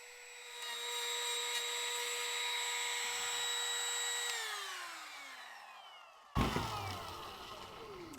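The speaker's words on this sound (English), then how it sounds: "I like this new router." A router cuts pallet wood for a mirror frame, a steady high whine running several seconds, then winding down in pitch, followed by a sudden loud burst of cutting noise near the end. No one speaks.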